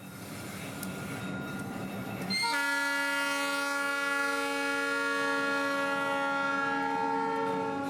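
Two CSX GP38-2 locomotives hauling a phosphate train approach a road crossing at night, first a low rumble, then a long loud steady multi-tone horn that holds through to the end.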